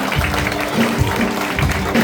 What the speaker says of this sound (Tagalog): Pwede ba natin bigyan ng isang malakas na palakpak ang ating Panginoon na buhay?